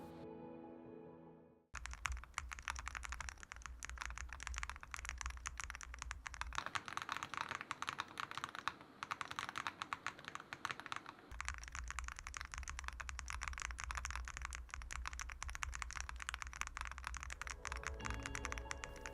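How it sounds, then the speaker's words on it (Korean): Rapid, continuous clacking of a Melgeek MADE68 Ultra V2 magnetic-switch mechanical keyboard being typed on, close and crisp, keystrokes running together in quick bursts with no talking. "타건음 들려드릴게요."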